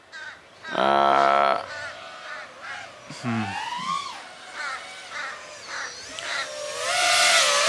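Crows cawing as they chase a small GEPRC Smart35 sub-250g drone carrying a naked GoPro: loud, harsh caws in repeated bursts close by, with a voice speaking briefly between them and a whooshing hiss near the end.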